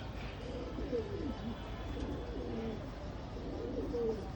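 Pigeons of a nose-pulling generation breed cooing softly in a loft, with a few low repeated coos under faint background hiss.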